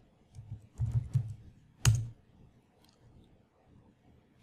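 Keys clatter on a computer keyboard running Kali Linux, a short burst of quick taps followed by one sharper clack, then quiet, close and fairly soft.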